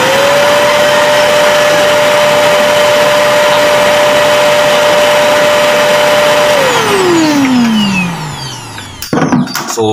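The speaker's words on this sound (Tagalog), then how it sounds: "Ako natistingan akong vacuum cleaner be." A vacuum cleaner runs loud and steady with a constant high whine, then powers down, its pitch sliding lower as the motor spins to a stop before a few clunks at the end.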